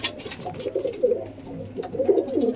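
Chotiyal pigeons in a loft give soft, throaty coos in short rolling phrases, close and fairly clear against a quiet background.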